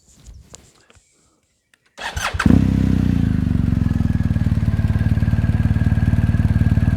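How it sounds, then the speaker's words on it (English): A few faint clicks and quiet fumbling, then a BMW R1250GS Adventure motorcycle engine cranks and fires up outdoors in sunlight, settling into a loud, steady, throbbing idle close by. "So we're going to start the bike"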